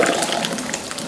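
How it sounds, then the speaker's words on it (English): Tomato mix, roughly three liters of thick tomato paste blend, poured into a pot of jollof rice, a continuous gushing liquid splash that is loud and close, with no talking. "I'm going to pour my tomato mix"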